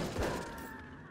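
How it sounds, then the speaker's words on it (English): A single heavy shotgun blast from Wolfenstein 2 lands as a close, booming burst and then fades quickly into a short rumbling tail. "I'm liking these shotguns in up close and personal battles"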